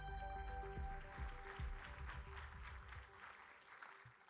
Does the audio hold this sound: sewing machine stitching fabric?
no